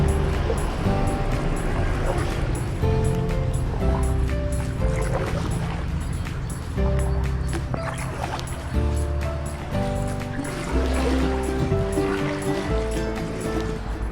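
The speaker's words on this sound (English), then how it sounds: "It's time to get paddling." A Riber 420 drop stitch kayak is paddled along Selby Canal, with repeated soft splashes and water swishes from steady strokes, close by under a continuous background hum.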